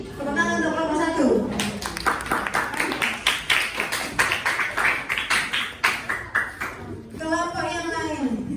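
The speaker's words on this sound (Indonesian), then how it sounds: "Tepuk tangan untuk kelompok 1." A classroom of students claps for the first group after its presentation, with several seconds of brisk, loosely rhythmic hand claps. A voice speaks just before and after.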